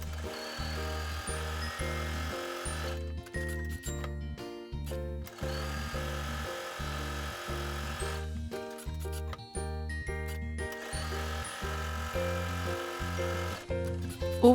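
A sewing machine quilts fabric panels for a bum bag, its motor humming in steady runs that stop and restart in a regular rhythm, close and fairly loud with no talking.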